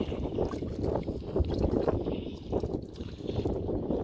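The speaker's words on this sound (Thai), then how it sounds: "ลมค่อนข้างแรงนะครับ" Strong wind roars steadily across the microphone outdoors by Khlong 16 canal, a continuous low buffeting rush with choppy, sea-like water sounds mixed in, no voices.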